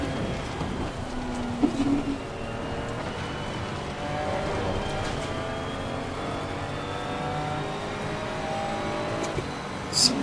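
Rain at Spa-Francorchamps in Assetto Corsa Competizione, driving a Ferrari 296: a steady wet hiss fills the whole stretch beneath a continuous engine drone, with a couple of brief louder bursts.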